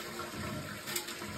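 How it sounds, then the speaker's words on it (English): A household toilet flushes after its tank was refilled during a leak repair, a steady close rush of water swirling and draining for the whole moment with no talk. "Let's give her a flush."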